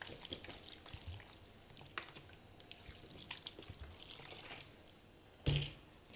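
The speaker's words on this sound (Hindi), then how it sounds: "अब इसमें पानी ऐड करते हैं" Water pours into a pot of chana gosht (chickpeas and meat) before pressure cooking, a soft, steady splashing trickle that stays faint and close with a brief louder slosh near the end.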